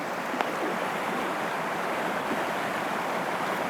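The partly frozen Laurel Fork river near Hampton, Tennessee, flows in winter with a steady, unbroken rushing wash that stays even and moderately close throughout, with no voices.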